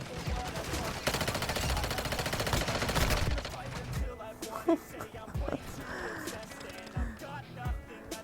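Fast automatic gunfire in Call of Duty: Warzone Mobile fires in a long, loud rattling burst, then gives way to scattered impacts and footsteps as a voice talks.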